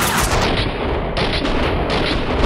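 Dense, loud gunfire in the video game Max Payne 2, a continuous close barrage of overlapping shots and booms with no letup across the whole stretch and no talking.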